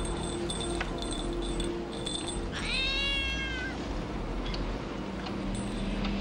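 A cat meows once, a drawn-out, wavering cry rising over steady low background rumble and faint ticking, fairly close and clear.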